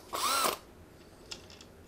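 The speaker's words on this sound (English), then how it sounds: "cut the end off the Allen key so that the key can fit into your drill" A short burst of a power drill driving a cut-down Allen key, whirring and rising in pitch for about half a second, followed by faint clicks and a brief tool noise.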